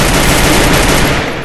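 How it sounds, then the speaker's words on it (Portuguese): Dense rapid gunfire in a Clock Tower video game, a loud continuous burst of shots with no talk. "Dá um tiro aqui nele só pra ele ficar esperto."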